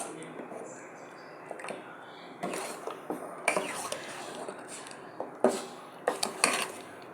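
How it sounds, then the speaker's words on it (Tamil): Lentils stirred into bitter gourd pitlai in a pot give quiet, scattered clinks and scrapes of a utensil against metal, sharper near the end, with a voice speaking at times. "பருப்பையும் சேர்ந்தாச்சு, எல்லாம் நல்லா சேர்த்து கலந்து விட்டுடுவோம்."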